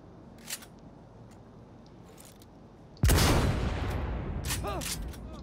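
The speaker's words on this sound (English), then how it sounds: "Yeah, cannon shooting." A cannon fires once in the Cyberpunk 2077 video game, a sudden loud blast that rings on with a decaying rumble over quieter background game sounds.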